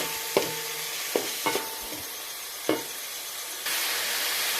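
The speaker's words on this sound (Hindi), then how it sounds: "हल्की आंच पर इसे फ्राई करेंगे जब तक इसका कलर गोल्डन नहीं हो जाता।" Ingredients for chicken fried rice fry in a pan over low heat, a broad hiss broken by a few sharp clinks of a utensil against the pan, then a steadier sizzle.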